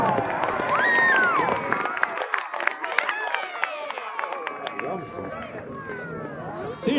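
A crowd at a jousting tournament cheers and shouts in bursts while an announcer's voice talks over the noise, with rising whoops and scattered clapping at an outdoor event.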